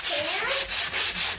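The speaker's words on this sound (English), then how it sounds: "This is a sander. I'm gonna try to sand this down to get it to be nice and flat." A hand sander works a surface flat in short back-and-forth passes, giving a close, rhythmic rasping scrub that swells and dips about four times.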